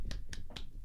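Three sharp hand claps ring out in a steady chant rhythm, close and crisp with short gaps between them and no talk.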